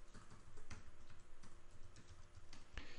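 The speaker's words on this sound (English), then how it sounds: "we can just type in a name" Typing on a computer keyboard at a command prompt, a short run of faint, irregular key clicks in a quiet room.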